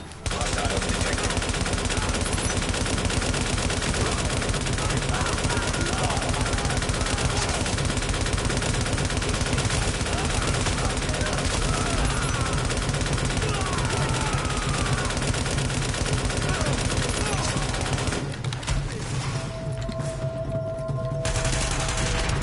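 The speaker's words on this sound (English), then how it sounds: "He's taking heavy fire from the roof." Heavy gunfire in The Division video game, a long unbroken barrage of rapid automatic shots at constant loud level that thins briefly near the end before resuming.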